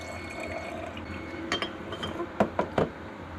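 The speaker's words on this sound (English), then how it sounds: "I'm gonna strain the broth out of this because I do not need it this time." Broth is strained from a pot of cooked meat: a soft, faint pour and trickle of liquid, then a few clear clinks and knocks of dishes and utensils near the end.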